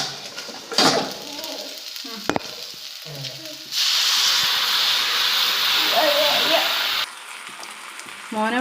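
Chicken frying in a pan and being stirred, with a strong steady sizzle and hiss, scraping and clatter of the utensil, and bits of talk in between.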